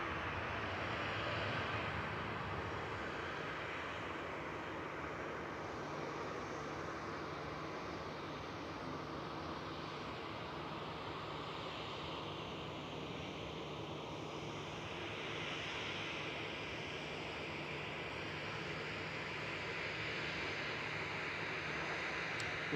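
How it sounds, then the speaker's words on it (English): Aer Lingus airliner inbound from Dublin on approach to Manchester Airport, a steady broadband jet roar that holds at an even level throughout with a faint rumble beneath, moderately distant and with no voices. "Aer Lingus is EIDEI coming in from Dublin with flight 202."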